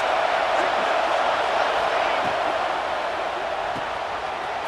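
A dense stadium crowd roars on fourth down in College Football 26, a continuous loud wash of cheering and noise that swells and thins slightly over a few seconds.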